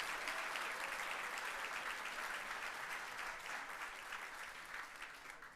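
A room of people applauding at a community awards ceremony, dense continuous clapping that holds steady for several seconds, then eases slightly toward the end.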